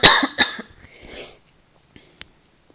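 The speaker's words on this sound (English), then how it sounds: "Sorry, I need to cough." A person with a lingering cold coughs: a few loud, harsh bursts close by in quick succession, trailing into a softer rasp, then near silence with a couple of faint clicks.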